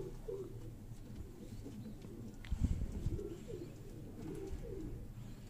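A pigeon coos in soft, repeated calls at a quiet distance, with a brief thumping bump partway through and no talking.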